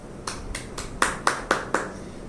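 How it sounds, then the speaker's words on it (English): Children clapping for themselves during an online play-school lesson: seven sharp, close claps in a steady rhythm, the later ones louder, with no talking. "Clap for yourself"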